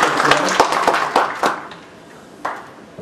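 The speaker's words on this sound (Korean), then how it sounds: "하나님께 영광을 드리는 박수 부탁드립니다" A church congregation claps for the choir: a loose run of scattered hand claps that thins out after a second and a half, leaving a quiet stretch and one last late clap.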